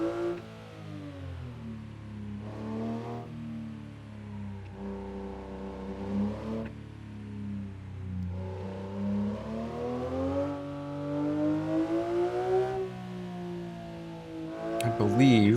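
A Porsche 992.2 Weissach engine in a driving game on a Japanese mountain touge road, steady mid-revving drone rising and falling through gear changes, close, with someone talking over it.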